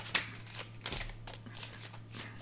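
Tarot cards are shuffled by hand in a quiet room, producing a series of soft, close riffling and sliding bursts repeating at an uneven rhythm.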